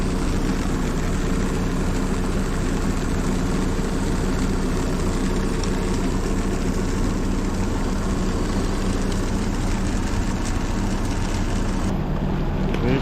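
A Fendt 716 tractor sows wheat with a Nordsten 3040 drill, its engine a loud, unbroken close-up drone that holds steady throughout with no voices.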